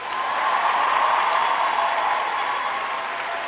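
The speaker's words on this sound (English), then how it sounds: "So let me give her a round of applause there." Steady audience applause fills the space, a dense wash of many hands clapping at an even level throughout, loud and close with no talk over it.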